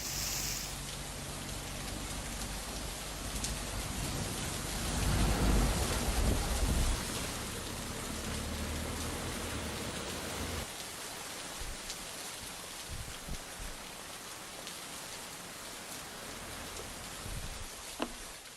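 Heavy afternoon rain in Raigad, Maharashtra, pours down as a dense, continuous roar of falling water, swelling louder around the middle and easing slightly toward the end, with no voices.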